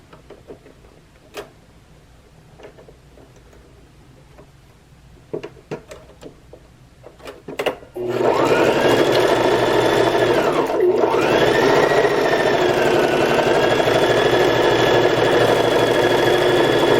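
A sewing machine stitches across the top of joined fabric pieces for a Harry Potter craft project. A few scattered clicks and handling taps come first, then a loud, steady, rapid mechanical whirr runs to the end with a brief dip.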